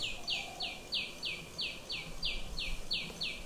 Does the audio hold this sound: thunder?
no